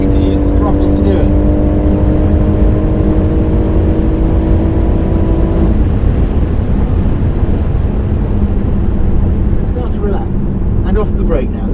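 A car engine drones loud and close on the Goodwood circuit, a sustained pitched hum in the first half giving way to a rougher, steady roar as the car is driven, with a voice coming through briefly.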